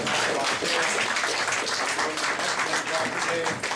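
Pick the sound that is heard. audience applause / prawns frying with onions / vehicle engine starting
audience applause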